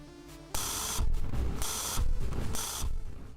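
Game music and sound effects from the Geometry Dash level Back on Track, with bright, noisy bursts pulsing in a regular beat over a busy electronic backing at moderate level, and no talking.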